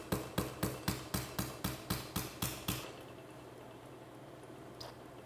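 A surgical punch is tapped into bone to prepare an anchor site during arthroscopic rotator cuff repair, giving about ten sharp, evenly spaced taps before stopping, leaving a quiet room hum.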